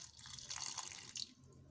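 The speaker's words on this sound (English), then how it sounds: "Add water to cover" Water pours over coconut and tiger nuts in a blender jar, a short, soft splashing trickle heard close up and alone.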